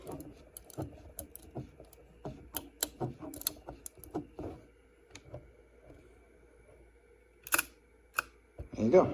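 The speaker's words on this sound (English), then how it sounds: "So, yeah, shutter works." Several sharp mechanical shutter clicks from a Zeiss Ikon Contessa folding camera fired at slow speeds such as half a second and 1/25, close and crisp, spread across the clip among handling noises, with a louder burst near the end.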